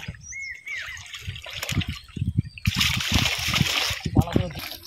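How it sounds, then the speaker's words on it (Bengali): A fish is washed by hand in water, with repeated splashes and sloshing close by while someone talks over them and a bird calls faintly in the background. "কাহা মাছটি ভালো করে ধুয়ে লইতেছে"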